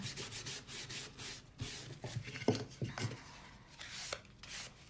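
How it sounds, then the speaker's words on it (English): Rhythmic scrubbing strokes of a paper towel rubbing paint into wood, a close, dry swishing repeated back and forth with brief pauses between passes. "I'm actually sanding the wood with my paper towel"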